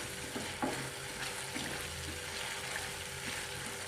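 Masala sizzling steadily as it is sautéed in a pan for a matar paneer sabji, a continuous frying hiss with occasional stirring scrapes, close and moderately loud.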